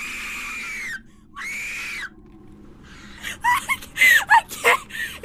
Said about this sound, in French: Les deux jeunes sont terrifiés et crient pour appeler la mère d'une des deux.